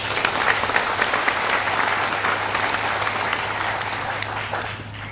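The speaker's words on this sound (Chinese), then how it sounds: "请给他们一个掌声" Sustained applause from an audience at a business leadership training seminar, steady dense clapping throughout with a constant low electrical hum beneath, fading slightly toward the end.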